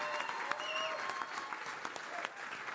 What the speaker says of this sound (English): let's make some noise for them